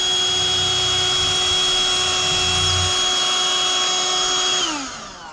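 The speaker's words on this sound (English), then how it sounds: "start drilling" A power drill drilling into drywall whines steadily at high speed, loud and close, with a grinding undertone early on before the motor winds down.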